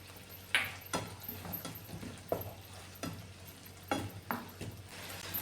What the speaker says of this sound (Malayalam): ഇതെല്ലാം കൂടെ നന്നായിട്ടൊന്ന് മിക്സ് ചെയ്ത് കൊടുക്കാമേ.